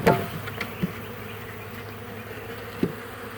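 Honey bees buzz in a steady, close drone, with a few louder passes as individual insects fly near.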